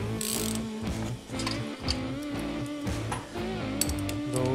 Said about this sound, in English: with a ratchet.